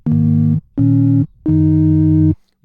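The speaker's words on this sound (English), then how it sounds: "So at the moment we can just hear like this slight fuzz in there, and it makes it sound really analog" A Serum synth pad with a slight fuzz from an FM noise oscillator plays three loud, sustained held notes separated by short silent gaps, the last note the longest.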